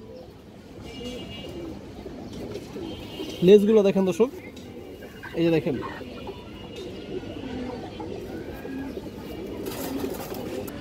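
Indian pigeons coo softly in the background, low and intermittent beneath someone talking close by.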